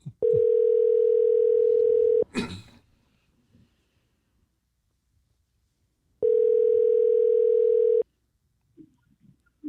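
A steady telephone ringback tone sounds in two long loud pulses a few seconds apart while a call is placed, with brief talk between them.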